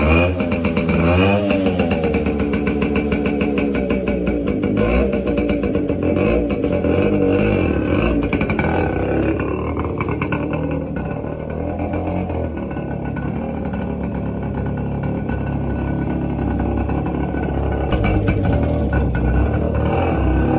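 A Yamaha motorcycle engine revs hard during a pickup test, running loud and close for about twenty seconds with a steady throaty roar and rising and falling throttle surges. No one speaks over it.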